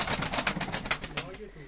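Pigeons cooing in a dovecote of highly prized tumbler pigeons in Gyumri, a steady murmur of soft coos with fluttering and rustling, fairly close and dense, fading slightly toward the end.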